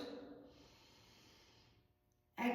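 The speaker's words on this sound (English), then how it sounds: "Breathing in through the nose." A long, soft breath drawn in through the nose during a pranayama exercise, a steady airy hiss lasting about two seconds before a louder sound cuts in at the end.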